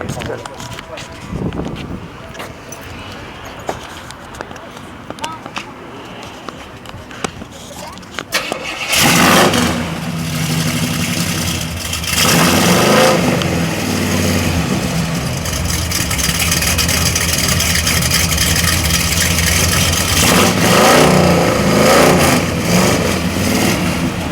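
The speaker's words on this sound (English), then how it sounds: "is it possible for the viewers to hear what the engine sounds like?" A 1969 Buick GS 400 engine with Poston headers cranks and catches, then roars loudly and revs up and down in close, sustained bursts, with voices talking under it at the start.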